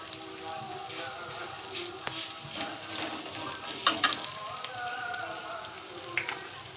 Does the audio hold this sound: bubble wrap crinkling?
no